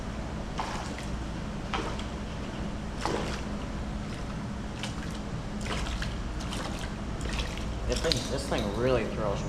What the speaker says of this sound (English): This thing really throws water.